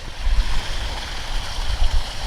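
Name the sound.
backyard pond waterfall splashing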